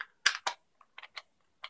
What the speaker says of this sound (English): So there we go, clicking it in.